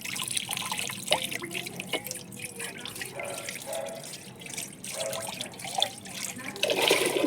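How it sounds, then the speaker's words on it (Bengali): Water splashes and drips while a bowl is washed at a sink, irregular small trickles and clinks at close range, with a louder rush of running water near the end. "বাটিটা ধুলেও অনেক জল পাওয়া যাবে।"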